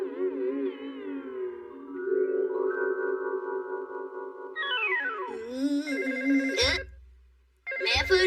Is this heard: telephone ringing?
yes